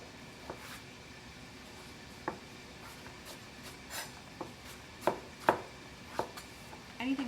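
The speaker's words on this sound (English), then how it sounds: "Finish chopping the rest of these here." A knife chops butternut squash on a cutting board with scattered, irregular thuds and taps, faint and intermittent over a noisy kitchen background, with no talk.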